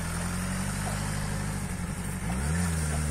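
A motorcycle engine idles steadily up close, then revs up with a rising whine near the end.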